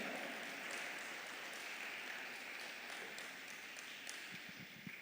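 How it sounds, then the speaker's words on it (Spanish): A church congregation applauding, a steady, dense wash of clapping from many hands sustained throughout, fairly distant and even, with a few faint taps near the end. "Dele un fuerte aplauso al Señor"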